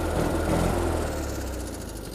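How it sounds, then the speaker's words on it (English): A restored classic car engine runs at a steady idle, a close, even low drone with a slight rhythmic throb that eases a little toward the end, heard alone without talk. "Believe it or not, that sounds good for one of them engines."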